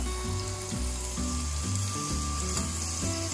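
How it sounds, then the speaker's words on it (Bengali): Onions frying in a pressure cooker during mutton biryani preparation, a steady close sizzle crackling continuously throughout with faint stirring scrapes. "পেঁয়াজগুলোকে আমি একটু ফ্রাই করব।"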